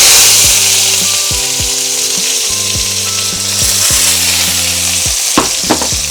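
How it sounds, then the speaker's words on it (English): Onions and bay leaves frying in a pan, a steady sizzle with repeated scraping and stirring strokes at a regular rhythm, close and fairly loud with no talking. "So now we'll add our onions."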